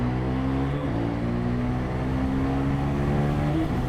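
A 2024 KTM 390 Duke single-cylinder motorcycle revs hard under acceleration, a loud continuous engine drone whose pitch climbs, dips briefly at a gear change, then climbs again.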